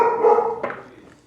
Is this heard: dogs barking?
yes